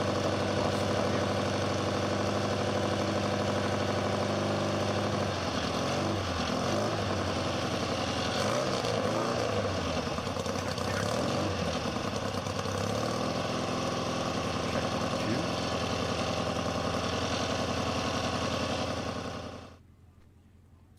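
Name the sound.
race car engine running at El Mirage dry lake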